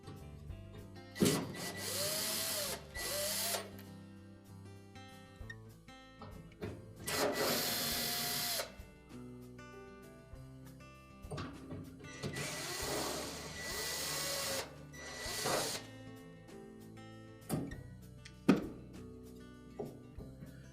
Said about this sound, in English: there are 3 5/16 screws that go up through from the bottom of the base into the legs on the pump. So we need to remove those.